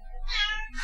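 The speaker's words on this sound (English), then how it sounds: "You can probably hear the cat in the background." A house cat gives a short, clear meow in the background, followed by the beginning of a second one.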